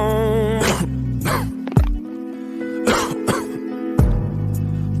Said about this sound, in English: Twan starts coughing.